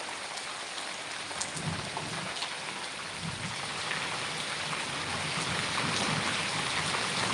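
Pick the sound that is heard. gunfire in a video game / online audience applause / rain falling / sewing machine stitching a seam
rain falling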